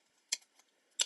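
Scissors snip sharply twice, close and crisp, with a faint softer snip between them in an otherwise quiet room while making a cocktail.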